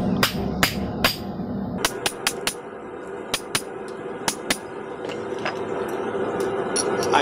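A slitter tool is struck with a hammer over copper plate on an anvil, giving a string of sharp metallic blows, several clustered early and later spaced, near and loud against a low ambient hum.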